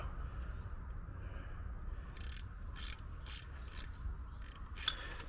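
A ratchet wrench working a cross-threaded bolt gives off a quick series of faint, crisp clicking bursts, about half a dozen short ratcheting strokes over a low background hum.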